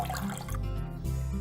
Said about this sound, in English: I'll now be using a damp cloth. So we dampen it with some water.